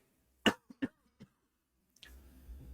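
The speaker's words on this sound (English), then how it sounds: "the cough still hasn't gone away" A few sharp coughs close up, three bursts in quick succession, followed by quiet and then a low rumbling background noise.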